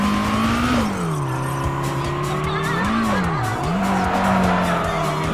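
Tires squeal steadily in a long handbrake drift in Tokyo Xtreme Racer Drift 2, a loud, continuous screech whose pitch rises and dips as the car slides, over the droning engine.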